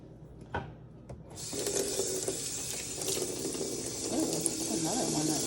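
Tap water running into a sink while food is rinsed under it, a steady close splashing rush with small clinks, and a person talks over it.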